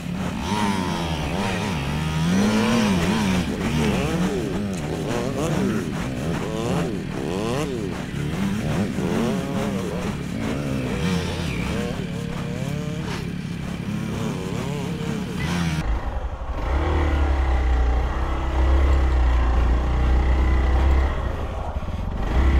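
A motorcycle on a rocky off-road trail revs hard while its rear wheel spins on loose stones, a dense buzzing engine roar with rising and falling pitch, shifting to a lower, rougher rumble near the end; talk is faintly mixed in.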